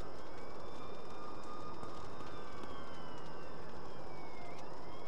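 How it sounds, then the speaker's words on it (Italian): Ambulance siren in the video game Alone in the Dark, wailing and rising and falling over a dense rumbling background, fairly distant and steady, no voices heard. "Un'ambulanza!"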